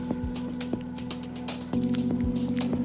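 Clay kneaded by hand in a ceramics workshop: soft wet squishes and slaps recur every half second or so over a steady mechanical hum that grows a little louder midway.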